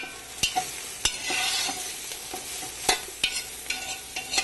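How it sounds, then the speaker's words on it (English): Vegetables frying in a pan, a steady sizzle broken by sharp scrapes and clacks of stirring, close and fairly loud, no voices. "So we're just going to let those vegetables cook"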